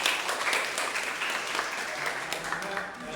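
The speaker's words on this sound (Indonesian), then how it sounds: "tepuk tangan semuanya" A classroom of students applauds during a civics lesson (PPKn) in an Indonesian school, a steady, moderately loud patter of many hands clapping for about three seconds with some talk mixed in.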